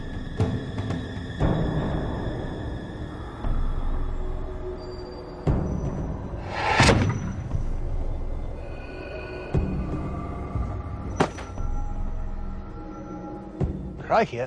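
A black powder mortar fires a single loud, sharp blast outdoors midway through, standing out above scattered background noise and a few fainter knocks.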